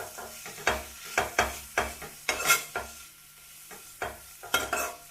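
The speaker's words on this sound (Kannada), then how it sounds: "ಒಂದು ನಿಮಿಷ ಚೆನ್ನಾಗಿ ಫ್ರೈ ಆಗಿದೆ. ಆಲೂಗಡ್ಡೆಗೆಲ್ಲ ಉಪ್ಪು ಖಾರ ಮಸಾಲ ಎಲ್ಲ ಹಿಡ್ದಿದೆ." Potatoes coated with salt, chili and masala fry in a pan while a spoon stirs them in repeated scraping strokes, each stir bringing a soft burst of sizzle, close and fairly quiet with no talk.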